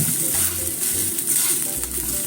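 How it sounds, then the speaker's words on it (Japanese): Onion pancake made without wheat flour frying in a pan, a steady bright sizzle with a few soft low bumps and scrapes as it is turned over, lasting only a couple of seconds. "じゃあひっくり返してみましょう。"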